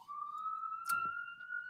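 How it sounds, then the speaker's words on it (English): A police siren wails outside on a major city boulevard, a steady distant tone heard alone with a brief burst of noise partway through. "I don't know if y'all hear the sirens"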